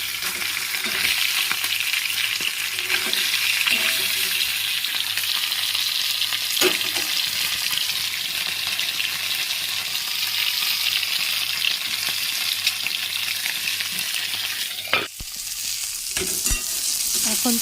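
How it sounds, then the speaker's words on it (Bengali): Food fries with only a little oil in a wok, making a continuous loud sizzle. Stirring scrapes and clinks break in now and then, and the hiss briefly dips near the end before resuming. No voices. "কড়াটা অল্প তেলেই তো ভাজছি"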